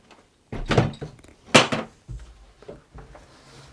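An old door in an abandoned French countryside farmhouse is opened, giving two close wooden thunks and rattles followed by softer creaks and knocks as it swings.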